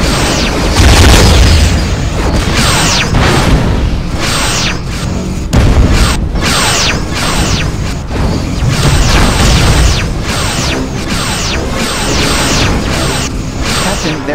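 Repeated booming weapon impacts and bursts strike starship shields in a Star Trek Bridge Commander space battle between the Enterprise-E and a Sovereign-class ship, loud and steady throughout, with brief bridge-crew voices layered over the barrage.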